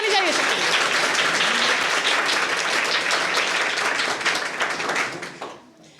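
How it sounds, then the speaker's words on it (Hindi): A crowd gives a sustained round of loud, dense clapping that stays steady for several seconds, then fades out quickly near the end, with a voice briefly audible at the start. "एक ताली हो जानी चाहिए सबके लिए।"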